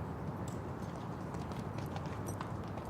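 Hooves of a stallion thudding on an outdoor show jumping arena during a 1.45m CSI3* class, a steady dense patter under crowd ambience, with the horse fighting to reach the fence.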